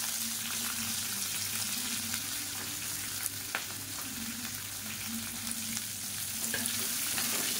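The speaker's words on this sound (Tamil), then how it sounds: "இப்போ பாருங்கள், எல்லாமே நல்லா பொரிய ஆரம்பிச்சிருச்சு." Green chillies and finely chopped onions fry in hot oil, giving a loud, steady sizzle with a few faint stirring clicks and no talking.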